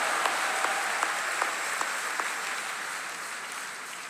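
Congregation applauding at a church convention sermon, a steady wash of many hands clapping at an even level, with a few louder claps standing out early before it settles.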